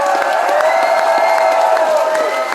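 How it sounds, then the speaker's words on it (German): An audience at a charity kids' festival in Gommersheim applauds, steady close clapping with some cheering, while a sustained tonal sound, likely music, carries on underneath. "Ganz lieber Applaus für Name Martin!"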